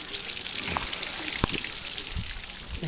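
Water from a hose running into a test tank for a 30 hp Evinrude outboard motor, a steady wash of splashing and trickling with a few louder drips and knocks.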